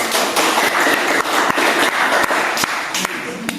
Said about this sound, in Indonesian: Tepuk tangan ke kelompok